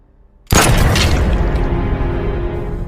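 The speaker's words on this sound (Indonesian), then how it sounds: "Lee kemudian mengeluarkan tembakan" A single loud gunshot in a film scene cracks after a brief silence, followed by a long, rumbling echo that slowly fades.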